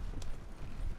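Horse hooves clip-clop in the Wild West game Red Dead Redemption 2, a steady beat of hoofsteps under a dense, continuous wash of in-game background noise.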